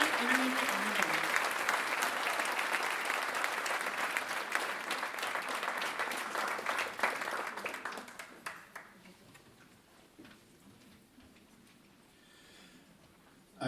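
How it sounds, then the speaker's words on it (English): An audience applauds loudly for the PEI Intermediate Honour Band. The clapping is dense and sustained, then thins and fades out toward the end. "let's give them a round of applause"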